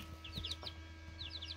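Faint high-pitched peeping and chirping from young broiler chicks, a few quick calls in two short bursts over a low steady hum.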